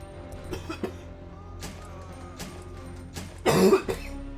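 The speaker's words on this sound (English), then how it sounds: "That's my wake-up cough." A person's morning cough rings out close to the microphone, several short throaty coughs scattered through a quiet room, ending in a louder, harsher burst.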